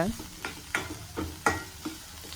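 Curry leaves with green and dried red chillies fry in oil over popped mustard seeds, giving a crackling sizzle with repeated spatula scrapes and knocks, close and moderately loud, and no talk.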